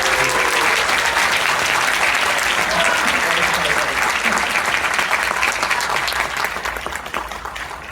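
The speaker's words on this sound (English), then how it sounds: "let's give him a very big round of applause." An audience claps loudly and continuously to welcome a former FC Barcelona player, the dense applause holding steady before slowly fading near the end.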